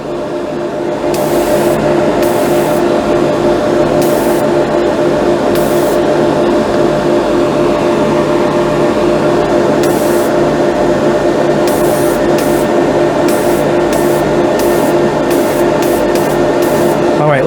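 Mr. Hobby Gundam Marker airbrush spraying paint in a steady, close hiss lasting throughout, broken by short bursts of brighter hissing as the trigger is pulsed.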